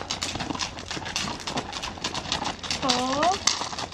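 Hooves of an Icelandic horse clip-clopping in a steady rhythm as it is ridden, with people talking nearby and a brief whinny-like call partway through.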